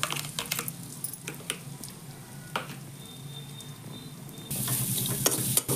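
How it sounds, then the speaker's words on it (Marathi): Green chili, peanut and garlic chutney fries in hot oil with a steady close sizzle, punctuated by stirring scrapes, and the sizzle swells louder near the end. "शेंगदाणे चटणी जी आपली ती छान प्रकारे भाजून घेऊयात आपण तेलामध्ये।"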